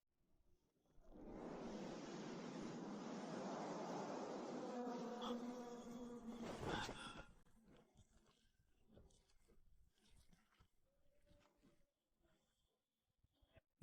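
Dense, loud buzzing of an iron-eating wasp in an animated fantasy series, a steady drone lasting several seconds that ends in a few sharp clicks, followed by quieter scattered rustles.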